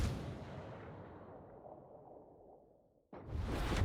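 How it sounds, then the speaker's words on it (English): A distant battleship gun shot from the Iron Duke in a naval video game, with a broad booming rumble that decays over about three seconds before a second loud blast cuts in near the end. "here comes a shot and you don't know where it's coming from. It's coming from the Iron Duke"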